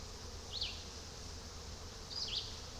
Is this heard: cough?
no